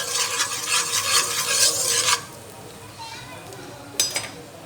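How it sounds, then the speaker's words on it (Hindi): Turmeric and red chili powder fry in hot oil for an egg pulao, giving a close, loud scraping stir and sizzle for about two seconds before it drops to a low hiss, with a brief scrape near the end. "2 से 3 मिनट हम इसको फ्राई करेंगे"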